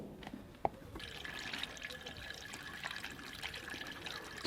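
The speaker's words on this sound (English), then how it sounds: "Let's add some fresh coolant." Fresh coolant poured into a Volvo 850 during a coolant flush, a faint continuous trickle of liquid running steadily after a single small clunk.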